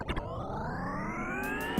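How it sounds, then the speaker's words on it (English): Electric car motor giving a thin, rising whine that climbs steadily in pitch, moderately loud and alone, with a couple of brief clicks near the start and end. "the soulless, robotic whine of electric motors"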